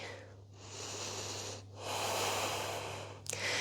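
Slow, deep breathing during a yoga session working toward the side crow pose, with long airy inhales and exhales heard close and quiet over a steady low hum.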